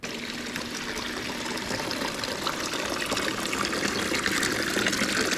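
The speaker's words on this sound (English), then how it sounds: "Now time for an audio test with the waterfall." Waterfall captured by a GoPro Hero 10 Black's built-in microphone with no attachments: a steady, broad rushing roar of falling water, constant and fairly loud throughout with no voices.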